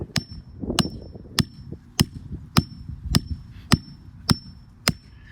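Sharp metallic hammer strikes drive a pipe into loose ground in an even rhythm, about nine ringing clangs in a row, close and loud against quiet background.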